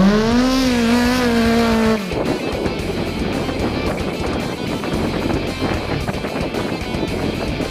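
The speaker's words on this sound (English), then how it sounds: "This is my car, it's a Hunter Rivmaster running in Super 1650." A Hunter Rivmaster 4WD race car in the Super 1650 class roars past at speed, its engine loud and close, and fades into a rough, sustained drone of racing noise.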